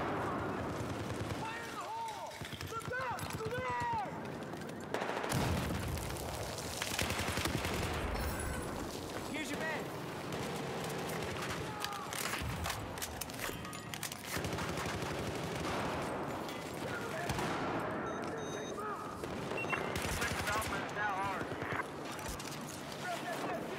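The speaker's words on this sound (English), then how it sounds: "Machine gun." Rapid bursts of machine gun fire in a Battlefield 4 multiplayer match, sustained and loud amid chaotic battlefield noise, other gunshots and voices talking throughout.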